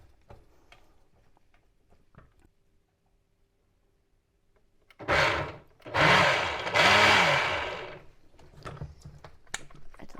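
A food processor pulses a meatball mixture in three short bursts, each a loud whirring grind of a second or so, after quiet clicks and small handling noises.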